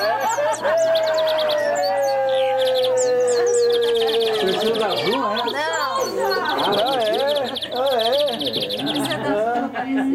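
A young shiny cowbird sings loud, warbling, whistled phrases that rise and fall continuously, with some sustained tonal notes. Voices are present in the background.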